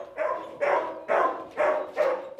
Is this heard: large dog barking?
yes